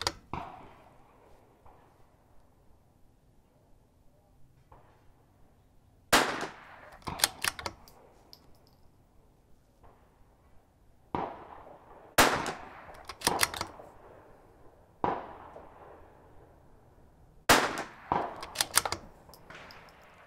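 A .22 rifle fires SK Rifle Match ammunition at a shooting range, with several sharp cracks spaced a few seconds apart, each followed by brief clatter, over quiet background between shots.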